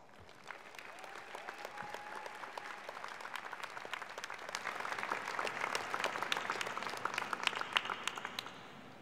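Sustained audience applause fills a graduation ceremony hall after graduates' names are read, a dense wash of many hands clapping that swells slightly toward the end, with no talk over it.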